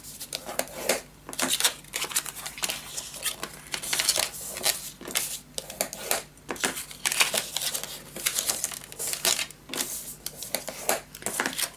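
Paper pieces for a Halloween pop-up mini album being folded and creased: repeated crisp crinkles and rustles come in quick bursts, close and moderately loud, with brief pauses between handling.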